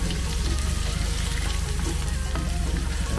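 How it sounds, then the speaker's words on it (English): Lamb shank browns with crushed garlic in a potjie pot, giving a steady, loud, close sizzle and crackle of frying fat that runs unbroken throughout. "and I just browning the meat."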